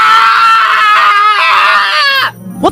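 Prolonged, loud, high-pitched screaming from a man in a radio commercial, strained and wavering for about two seconds before cutting off into a brief different sound.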